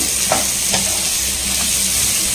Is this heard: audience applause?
no